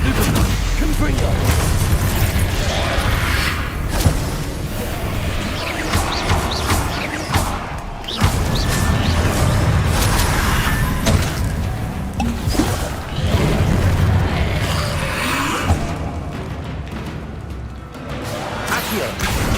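Confringo blasting spells explode repeatedly during Hogwarts Legacy combat. Dense crashes and booms layer over a continuous roar of battle effects and music, with several loud impacts and no pauses.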